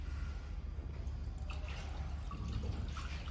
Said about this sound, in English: So how can we add the water to water tank? Just like this.